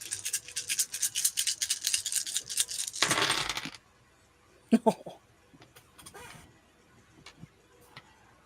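Dice roll across a tabletop during a Prowlers and Paragons roleplaying game, giving a few seconds of rapid rattling clicks, then a brief clatter and a few scattered taps as they settle.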